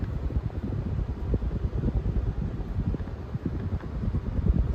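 Minka Aire San Francisco ceiling fan running, a steady low broadband whoosh of moving air with soft fluttering buffets, close to the microphone and alone without talk.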